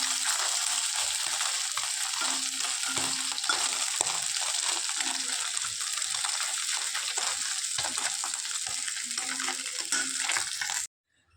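Small fish fry in a pan of hot oil, producing a loud, continuous sizzling hiss with scattered pops that runs unbroken until it cuts off abruptly near the end.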